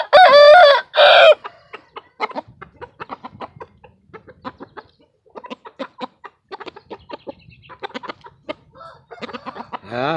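A rooster crows loudly twice at the start, then chickens cluck in short, scattered bursts on a farm, with no voices heard.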